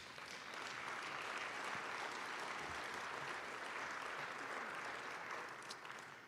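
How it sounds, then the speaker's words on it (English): An audience at a state-of-the-government address gives sustained, steady applause, a dense wash of clapping that holds at an even level throughout without speech. "I think that team, they deserve a round of applause"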